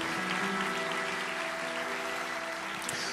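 Continuous applause from a church congregation, dense and steady throughout with a sustained musical tone underneath.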